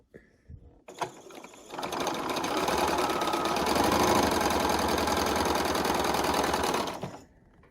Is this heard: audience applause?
no